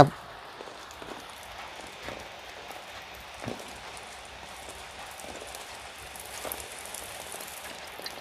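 Steady rain falls outdoors during a Thai cooking session for fresh bamboo shoot curry with fermented fish, a soft continuous patter with scattered louder drips, moderately close and even throughout.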